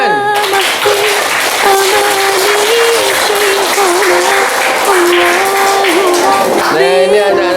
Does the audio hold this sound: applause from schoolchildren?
yes